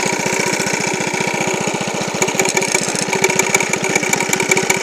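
Honda lawn mower engine running steadily with its self-propelled drive engaged in first gear: a close, loud, rapid chugging putter, joined partway through by faint metallic clicking and rattling.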